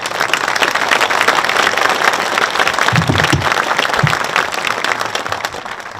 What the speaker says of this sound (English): All of these folks deserve a round of applause.